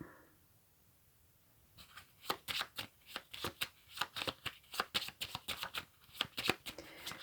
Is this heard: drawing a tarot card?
yes